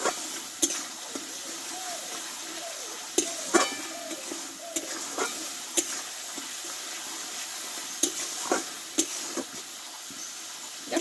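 Onions and spices sauté in a pan with a low, steady sizzle, broken by sharp spoon scrapes and knocks against the pan at irregular intervals, heard up close.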